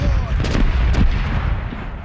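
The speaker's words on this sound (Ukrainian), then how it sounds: "Лівий борт готовий до залпу!" A ship's cannon broadside in the pirate naval video game Corsairs Legacy thunders as a volley of heavy booms, several shots overlapping in a loud, rumbling barrage.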